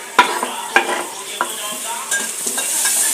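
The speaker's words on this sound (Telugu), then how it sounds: "ఇప్పుడు టమాటాలు వేసుకుందాం." Tomatoes are stirred into onions frying in a pan. A spoon scrapes in a quick irregular rhythm over a steady, close sizzle that grows slightly louder toward the end.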